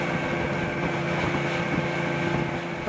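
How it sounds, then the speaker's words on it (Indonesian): A motorboat engine drones steadily and evenly on a trip from Waisai toward Pulau Gam in Raja Ampat, a continuous close hum with no breaks. "saya kembali harus melanjutkan perjalanan menggunakan perahu motor"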